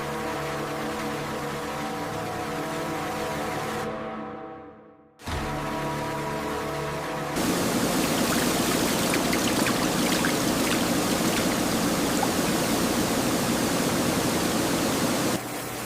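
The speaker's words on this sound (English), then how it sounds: "High-pressure sprays remove ice fragments, sand, slime, and loose material from the surface." High-pressure water sprays wash monkfish in a Korean processing factory, removing ice fragments, sand and slime: a loud, steady broadband hiss with a brief drop-out, then an even stronger continuous roar of spraying water.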